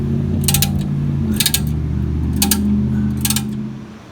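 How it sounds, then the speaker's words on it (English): Ratcheting car jack lifting the front of a Jaguar X308 during a shock replacement, four short bursts of clicking at a steady rhythm over a low mechanical hum, close and fairly loud with no talking. "What you do now is jack this up."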